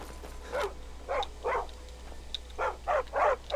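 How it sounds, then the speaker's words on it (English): A wild dog in Skyrim barks in a series of about seven short, sharp yaps, two groups of three with a pause between them, at moderate volume over a low background hum. "Wait, was that a wild dog?"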